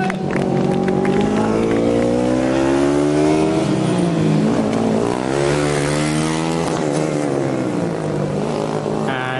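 A Formula Student race car sweeps past loudly during an endurance race in Germany, its engine note rising and then dropping as it goes by, with steady engine roar throughout.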